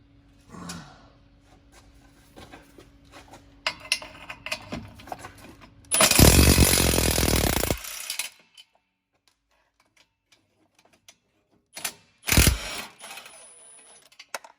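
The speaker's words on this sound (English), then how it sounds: "remove these two 15mm bolts in the exhaust flange" Scattered metallic clicks and clinks of tools, then two bursts of loud whirring as a powered ratchet spins 15mm exhaust flange bolts loose on a Ford F150 EcoBoost, separated by quiet.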